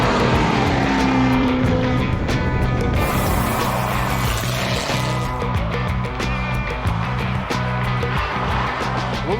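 Race cars speed along an open road race course in the Nebraska Sandhills: loud, close engine roar sustained throughout, with a car rushing past and fading.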